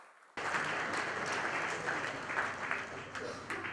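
Applause erupts suddenly at the IndIAA Awards 2016 ceremony, starting after a brief quiet moment, then a full crowd claps steadily and evenly until the end, with no talk.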